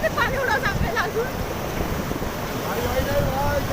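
River water rushes and splashes around a raft on a river in Kullu, Himachal Pradesh, under strong, constant wind buffeting on the microphone, with voices calling over it.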